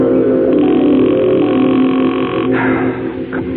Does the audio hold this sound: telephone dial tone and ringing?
yes